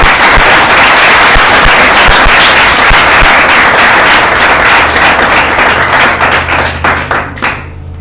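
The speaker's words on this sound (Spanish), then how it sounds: "Dale un aplauso a Él." A church congregation applauding, loud dense clapping close by with sharp individual claps standing out, tapering off into a low hum toward the end.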